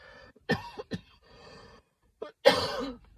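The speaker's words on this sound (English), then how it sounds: "Oh, I'm going to start coughing. Sorry." A few short coughs break out close by, followed after a pause by one louder, harsher cough.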